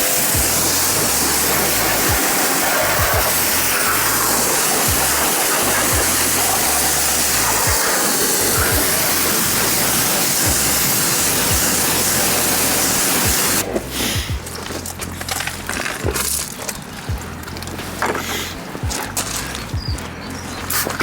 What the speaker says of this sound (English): So let's get this wheel rinsed off.